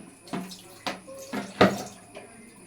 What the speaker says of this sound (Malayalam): ഇനി ഞാൻ പാത്രം കഴുകാൻ നോക്കുവാണ്